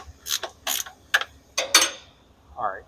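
Hand wrenches loosening the eccentric alignment bolts on a Tesla Model S, a few quick metallic ratcheting bursts close by, separated by short pauses, ending in a faint creak.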